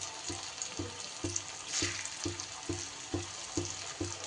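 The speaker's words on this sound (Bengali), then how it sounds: "আমি এই ধোকার টুকরোগুলো ভাজতে ভাজতে গ্যাস কমিয়ে দিয়েছি।" Pumpkin dhoka pieces frying in a pan over a lowered gas flame, giving a soft steady sizzle with gentle regular knocks, as if from stirring or the pan shifting, roughly twice per second throughout.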